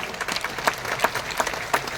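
Audience clapping during a speech, a short burst of scattered claps with a few sharper, louder hits standing out, fairly close and without talk over it.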